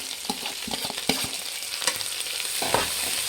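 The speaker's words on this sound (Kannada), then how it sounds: "ಚೆನ್ನಾಗಿ ಫ್ರೈ ಮಾಡಬೇಕು ಫ್ರೆಂಡ್ಸ್ ಎಣ್ಣೆಯಲ್ಲಿ" Fenugreek greens and onion sizzle in hot oil, a close, constant hiss broken by quick clacking stirs of a utensil against the pan, with no one speaking.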